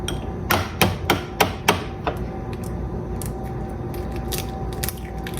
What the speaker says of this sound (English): Kind of gently cracking these.